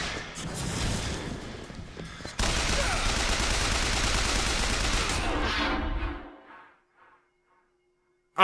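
Rapid automatic gunfire from a Patriot enemy in the BioShock Infinite video game rattles in a dense, loud barrage for several seconds, then cuts off into silence.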